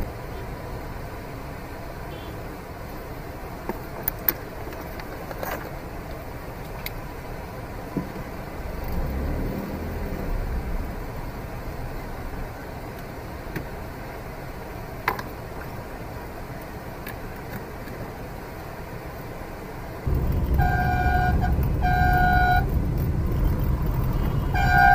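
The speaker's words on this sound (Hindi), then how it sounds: "bumper to bumper traffic" Steady city traffic noise in a Tata Nano stuck bumper-to-bumper, with faint scattered honks and clicks; near the end a louder car horn blares in repeated short toots over a rising engine rumble.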